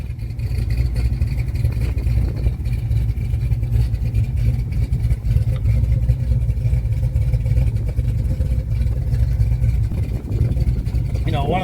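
A 455 Pontiac hot rod engine runs steadily after starting, giving a loud, deep, continuous rumble close by for the whole stretch with slight wavering, and a brief higher whine near the end.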